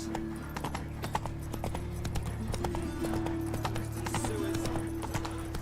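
Roach the horse gallops in The Witcher 3, with rapid rhythmic hoofbeats thudding up close over a steady tonal game background and a faint whinny, and a voice speaks briefly.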